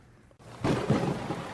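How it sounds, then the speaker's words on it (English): Thunder rumbles outside during a rainstorm, a quiet patter of rain giving way to a low rolling roll that swells and lingers. "I love the Christmas show with the thunder outside."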